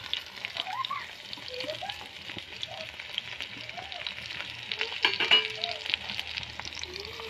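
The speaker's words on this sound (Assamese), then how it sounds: "এনেকৈ লৰাই থাকিব যাতে পিঁয়াজখিনি ৰঙচুৱা কালাৰ এটা নোহোৱালৈকে আপোনালোকে এনেকৈ লৰাই থাকিব" Onions sizzle and fry in a pan for fish curry while a spoon stirs them now and then, a steady close crackle with a voice speaking over it in places.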